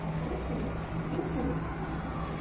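Pigeons of the Shahjahanpuri breed in Bareilly, Uttar Pradesh, coo in a low, steady murmur that carries on without a break, with faint background hum.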